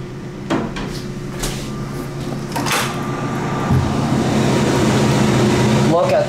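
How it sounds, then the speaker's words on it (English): The heavy manual inner door of a ThyssenDover hydraulic elevator clanks and rattles as it is pushed, with several metallic knocks, then a deep thud and a steady mechanical rumble close by. "Oh, this inner door is so heavy."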